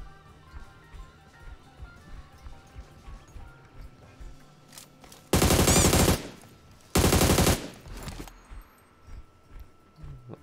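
Sniper gunfire in the mobile battle game PUBG Mobile, two loud sustained gunfire bursts in the middle, separated by a short gap, standing out over quieter in-game background noise.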